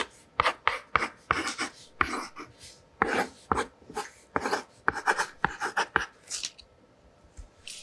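Pen scratching on paper in quick strokes, a steady run of short close scribbles with brief pauses, quiet and alone.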